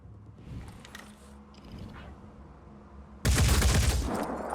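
Gunfire in the video game Blood and Titanium: a sudden loud, dense burst of shots cuts in after a quiet stretch and rattles on for over a second.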